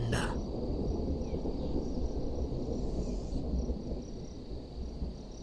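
Low thunder rumbles far off across the high desert at night, a faint sustained roll beneath still air, with a brief sharp click at the start and a thin steady high tone.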